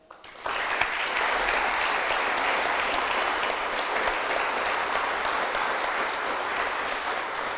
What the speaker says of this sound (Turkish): Bir de alkış isteriz.